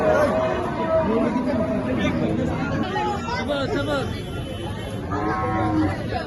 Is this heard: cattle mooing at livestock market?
yes